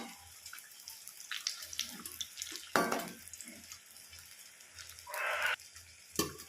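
Cauliflower pakoras fry in hot oil, giving a faint, uneven bubbling sizzle with intermittent splashy bursts and occasional clinks as the fritters are turned.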